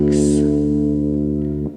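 Guitar strings ringing during tuning by ear, the first and sixth strings played together as a sustained, steady tone that cuts off abruptly near the end; close and fairly loud, with no talking.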